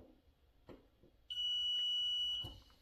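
A continuity tester on household electrical wiring for a multi-location motion sensor switch circuit emits one steady, high-pitched electronic beep lasting about a second, clear and fairly loud against a quiet room.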